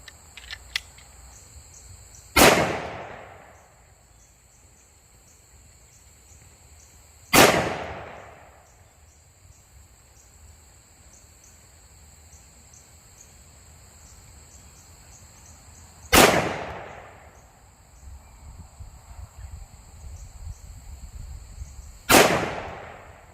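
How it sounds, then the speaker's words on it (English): A SIG 1911 Nightmare Carry Fastback pistol in .357 SIG fires full metal jacket rounds at a target from 20 feet, four sharp, loud reports spaced several seconds apart with quiet between them. "Let's go ahead and shoot 5 rounds at that left B8 target."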